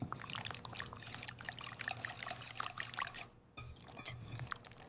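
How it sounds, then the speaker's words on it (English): Melted chocolate pours into brownie batter in a home kitchen, a soft, steady trickle close by that runs for several seconds with a short break before a final splash. "I add melted chocolate."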